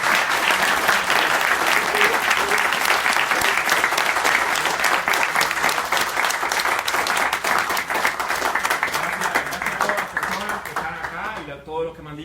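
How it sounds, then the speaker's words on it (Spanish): Strong, steady applause from an audience at a book presentation event welcoming a guest, loud dense clapping that tapers near the end as a voice starts speaking. "Así que yo quiero que reciban de verdad con un fuerte aplauso a Orlando."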